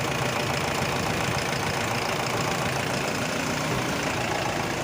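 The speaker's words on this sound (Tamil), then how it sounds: "எல்லாம் பண்ணி வண்டி ஸ்டார்ட் பண்ணி பக்காவாக ஆயிடுச்சு" A Mahindra Bolero with a 2.5 engine idles steadily after starting, a dense, even mechanical rumble with a faint rattle, close and alone.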